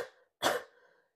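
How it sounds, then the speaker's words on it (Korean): A single sharp, close cough from a person with a cold, preceded by a soft breathy sound, then a brief fading rasp in an otherwise quiet room. "기침이 나요."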